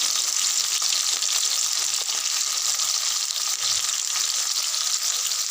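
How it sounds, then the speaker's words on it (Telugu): Onions and green chillies sautéing in a pan, giving off a close, even, continuous sizzle with a steady bright hiss and no speech. "ఇవి బాగా మగ్గేదాకా కలుపుతూ ఉండాలి"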